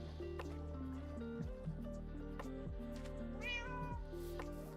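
A Minecraft cat meows a few times in the foreground over steady game background music, with light dripping, trickling sounds mixed in.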